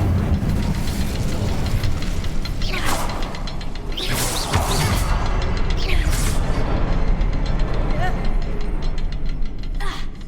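Incendio fire spell bursting in Hogwarts Legacy, a busy stream of whooshing flame and crashing impacts over a steady low rumble of game ambience, with several sharp swells throughout.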